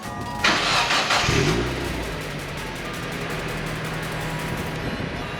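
An NB Mazda Miata engine with a Racing Beat axle-back muffler starts with a loud burst, then settles into a steady, deep idle through the exhaust, rumbling evenly to the end.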